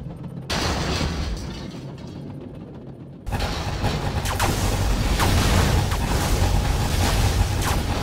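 Particle cannon weapon firing in Command & Conquer Generals, a loud sustained roaring blast that steps up sharply partway through and continues as a dense, rumbling barrage with scattered crackling bursts.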